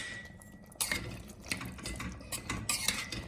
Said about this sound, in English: stirring my potatoes so that they can simmer nicely in the gravy